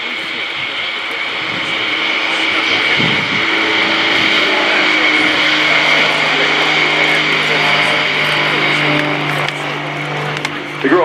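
Grob G115E Tutor, a carbon composite trainer with a 180 horsepower Lycoming piston engine, flying a display at the RIAT 2018 airshow, producing a loud, steady propeller drone that holds for the whole stretch and eases slightly near the end.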